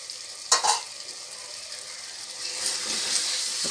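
Masala spices for chicken biryani fry in a pan and are stirred, with two sharp scraping clatters of a spoon early on over a constant hiss, then a livelier sizzle swelling toward the end.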